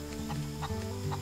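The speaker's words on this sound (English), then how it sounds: "these are very happy chickens." Hens kept for eggs and meat in a backyard flock, clucking softly in short repeated bursts, a low steady murmur of fowl sounds close by with no talking.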